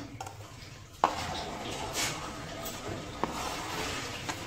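Chopped tomatoes tipped into a bowl for a salad, giving a soft clatter with a couple of sharper knocks over steady background hiss.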